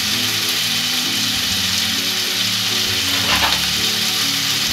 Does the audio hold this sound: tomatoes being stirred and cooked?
yes